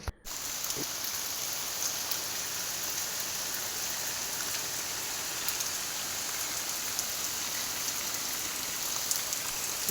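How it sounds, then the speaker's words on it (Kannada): Heavy rain with strong wind pours steadily for the whole stretch, a dense, loud hiss of drops drumming on surfaces with no pauses. "ಮಳೆ ಜೊತೆ ಗಾಳಿ ಕೂಡ ತುಂಬ ಭಯಂಕರ ಉಂಟು"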